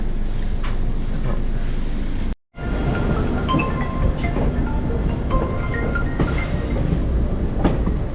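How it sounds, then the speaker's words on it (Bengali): Shimla–Kalka toy train pulling out of Kalka station: a steady, loud rumble of rolling wagons with scattered metallic clanks and squeals, briefly cut by a moment of silence early on. "আমাদের ট্রেন কিন্তু ঠিক টাইমেই ছেড়ে দিয়েছে কালকা স্টেশন"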